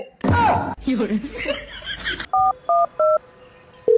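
A phone keypad is dialed: three short, evenly spaced touch-tone beeps, then a fourth after a pause, following laughter and excited voices.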